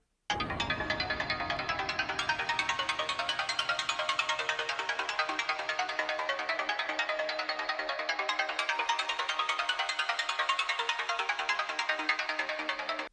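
A bright, dark-yet-melodic synthesizer arpeggio patch built in Serum or Vital runs in a steady, fast repeating pattern, washed in reverb, with no voices throughout.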